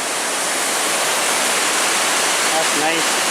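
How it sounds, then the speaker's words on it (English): The Brule River roars steadily and loudly, a dense unbroken wash like a fast river or rapids nearby, with a faint voice briefly underneath. "I got the Brule River."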